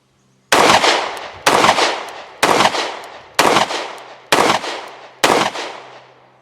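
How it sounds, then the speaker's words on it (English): Six loud, close shots from an Alpha Foxtrot S15 1911 pistol fed from Glock-pattern Shield Arms magazines ring out at an even pace about a second apart, each crack decaying into a short echo. "It shoots like a single stack 1911, and yet it has 15 rounds with the Shield Arms magazines."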